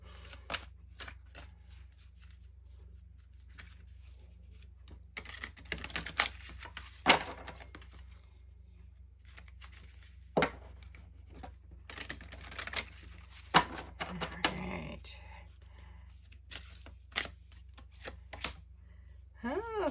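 Playing cards taken out and handled for the board game Pick a Road give irregular clicks, flicks and shuffling rustles, close and quiet, scattered over twenty seconds with pauses.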